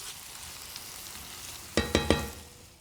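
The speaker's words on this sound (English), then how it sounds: "And just stir that through." Sweet chilli sauce being stirred through food in a pan: a quiet sizzle runs throughout, then three sharp scraping knocks of a spoon against the pan sound in quick succession near the end.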